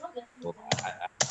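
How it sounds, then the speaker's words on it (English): Fast, hard typing on a computer keyboard, with bursts of loud clicking keystrokes up close, muffled voices underneath. "I don't know why he's typing angrily"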